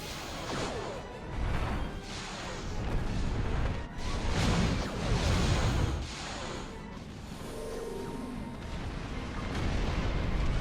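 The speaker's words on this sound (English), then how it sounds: "It helps to have an omnidirectional phaser weapon in this one, along with someone who can fire at will." Phaser weapon fire and explosions in space combat from the Star Trek Online game, a loud continuous barrage of blasts and whooshes with repeated surges.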